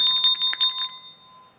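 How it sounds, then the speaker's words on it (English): A small hand bell rings in several quick, bright strokes, then a clear metallic tone rings out and fades over about a second, close and alone. "Let me get my bell."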